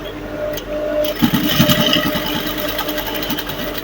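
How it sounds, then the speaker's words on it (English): A sewing machine runs straight stitches along fabric for a jumpsuit, a steady close mechanical whir and rapid needle clatter lasting a few seconds with no talking. "here you go to your machine straight and you sew"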